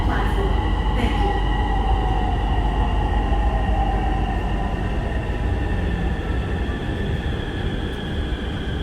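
A Bangkok Purple Line MRT train rumbles along steadily, with a low, constant roar, faint high squeals and tonal whines from the wheels and motors, loud and close throughout.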